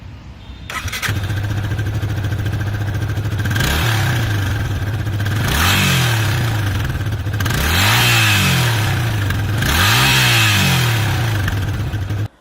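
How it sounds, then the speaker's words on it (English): A Yamaha FZ 25 motorcycle engine with a tuned sporty exhaust idles with a deep burbling note, then is revved several times in sharp rising blips, loud and close. "it has been specially tuned to give out a sporty exhaust note"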